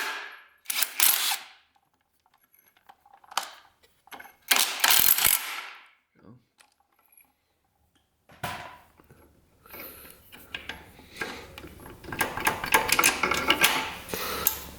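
Hand tools work on a dirt bike while the flywheel is removed to refit a slipped cam chain. Sharp, separate ratcheting bursts with silent gaps give way to a longer, rougher mechanical clatter near the end.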